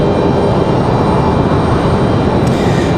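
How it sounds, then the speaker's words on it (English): An Icelandair jet leaves Raleigh Durham airport for Reykjavik, a loud, steady, broadband engine roar that fills the air without letup, heard from the ground. "Iceland back to Reykjavik is going to be our last international departure."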